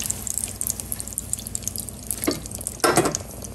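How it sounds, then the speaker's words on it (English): Corn tortillas fry in oil with a soft, crackling sizzle and a few louder bubbling spurts near the end, close by and with no talking. "I'm just gonna continue to fry these up"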